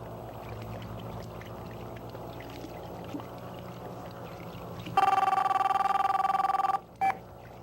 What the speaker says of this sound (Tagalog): Boss, telepono.